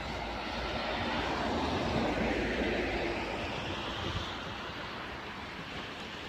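A large snowplow clearing snow from a road in Norway roars steadily, with a broad rumble and a rushing scrape of snow, swelling slightly and then easing off.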